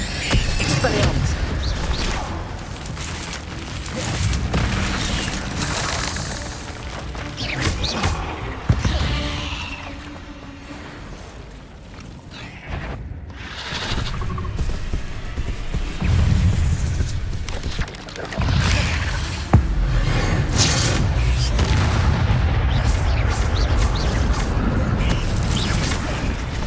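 Spell combat in the video game Hogwarts Legacy, with a disarming spell cast amid a dense run of booms, crashes and whooshing magic effects, loud and continuous throughout.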